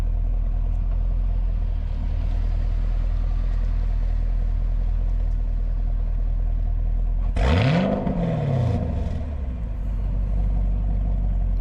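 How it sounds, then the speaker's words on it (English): A stock Chevrolet Camaro 6.2 V8 idles with a low rumble, then its exhaust roars through one sharp rev that climbs and decays over a couple of seconds, heard alone. "That's that classic Chevy V8 sound"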